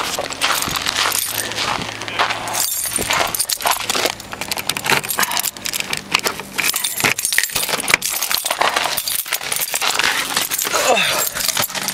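Car keys jangle and clink continuously and fairly loudly throughout, close by, with a few sharper metallic taps, before starting a car in extreme cold of about -22°F.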